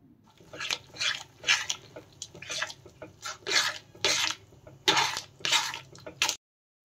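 A spoon clinks and scrapes in a pot as egg batter is slowly stirred into chicken soup, giving soft repeated metallic taps with a watery, sloshing edge, close and steady until it stops abruptly.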